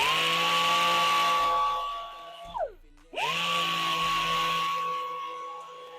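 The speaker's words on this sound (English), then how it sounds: "It should filter out the sound of the compressor just fine." An air compressor runs in a woodturning workshop, a loud, steady motor whine with airy hiss that winds down abruptly partway through, falls silent for a moment, then spins back up to full drone; no voices.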